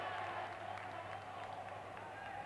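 Applause from the crowd and the bench at an indoor handball match after a goalkeeper's save, a steady wash of clapping with a commentator speaking over it.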